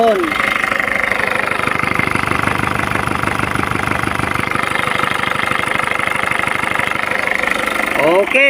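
A car engine runs steadily after a tensioner repair, a loud close mid-pitched idle with a rapid pulsing beat that holds throughout, a brief rise in pitch near the end.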